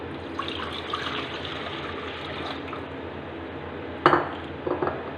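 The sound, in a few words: half liter of water poured into a pan of tamarind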